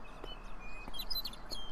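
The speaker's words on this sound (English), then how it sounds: "So if you just follow the bird calls." Synthetic birdsong from the video game Beyond Eyes: several short, high chirps and tweets scattered across a steady ambient game background, moderately faint and with no talking.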